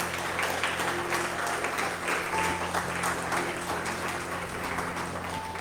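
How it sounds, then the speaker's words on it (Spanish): A church congregation claps together in a steady, dense wash of applause, sustained evenly throughout with faint background tones. "¿Cuántos le pueden dar palmas al Señor?"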